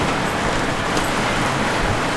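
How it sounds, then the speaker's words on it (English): Loud rain pours steadily outdoors, a dense, even hiss that holds without a break for a couple of seconds. "It is raining here. Loud."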